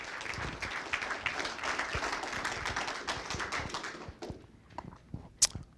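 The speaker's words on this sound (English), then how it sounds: "How about a nice round of applause for our volunteers?" Audience applause for volunteers at a public school board meeting, a steady patter of many hands that fades out after about four seconds, leaving a few scattered claps.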